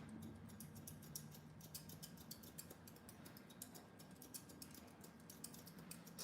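Regular barber scissors snip hair in a scissor-over-comb haircut, a fast run of soft, crisp metallic clicks repeating steadily through the whole stretch, close and fairly quiet over faint room hum.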